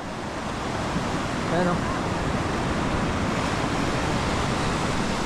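Brown sea surf washes in as a constant broad roar mixed with wind noise, steady and close, with a brief voice speaking over it.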